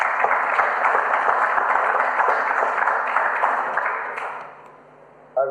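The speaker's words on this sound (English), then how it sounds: "a round of applause" Attendees at a council meeting give a round of applause, steady at first and then fading away over the last second and a half, ending with a brief sharp sound.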